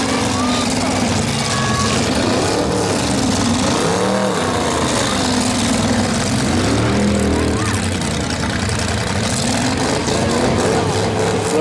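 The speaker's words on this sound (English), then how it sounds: "Let's play demolition derby." Full-size stock cars at a demolition derby, engines revving and roaring continuously with rising and falling pitch, dull impacts, a backup beeper and a loud announcer talking over the constant motor noise.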